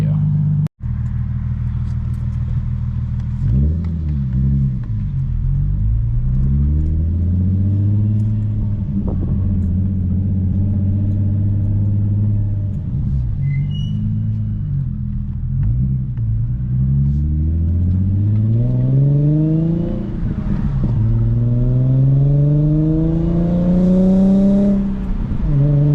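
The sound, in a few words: car with custom single exit exhaust revving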